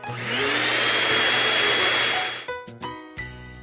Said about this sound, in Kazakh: Шаңсорғыш.